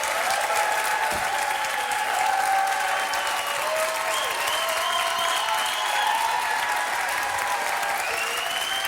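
A French television studio audience keeps up sustained applause for a delivery man, a thick unbroken roar of clapping that holds steady throughout, with cheering voices and whistling tones riding over it.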